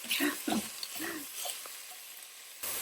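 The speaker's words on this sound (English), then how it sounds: "I'm using this tool to kind of break it up a little" Sausage browning in a pan while a tool breaks it up, soft scraping and stirring with a gentle sizzle underneath, a few louder pushes early on, then quieter frying.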